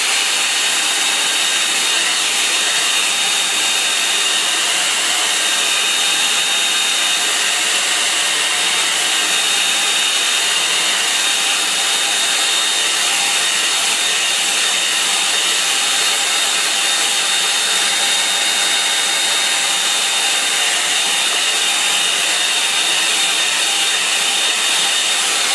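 A hair dryer blows steadily over a watercolour painting of an Essex estuary, a loud, continuous whirring rush that holds unchanged for the whole stretch with no talk.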